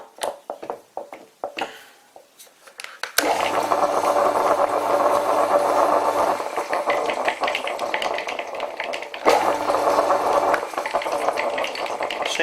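An old WW2-era Fischer lathe whirs and rattles at steady speed after a gear change, a loud mechanical drone with a low hum that cuts out and returns, preceded by scattered clanks.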